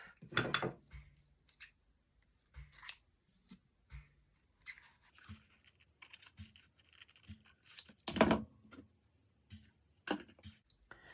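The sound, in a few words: scissors trimming ribbon on a gift bag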